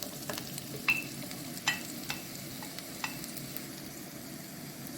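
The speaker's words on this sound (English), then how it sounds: "We're gonna add our thinly chopped onion." Thinly chopped onion hits oil in a frying pan for Korean spicy chicken soup, bringing a steady low sizzle with several light scrapes and taps of stirring, close and moderate in level.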